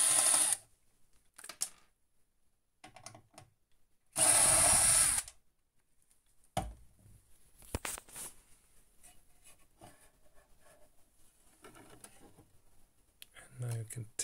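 A power screwdriver backs screws out of a Victron MultiPlus-II 48V 5kVA inverter in two loud whirring bursts of about a second each, followed by quieter clicks, taps and handling noises of the casing.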